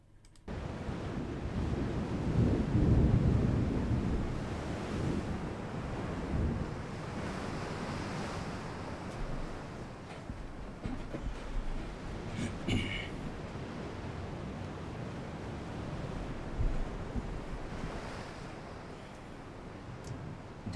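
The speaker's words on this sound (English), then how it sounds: "Even though the waves are higher than ever before," Stormy sea waves crash and wind roars in a naval warfare game, a continuous loud surge of surf and gusting wind swelling and easing across the whole stretch.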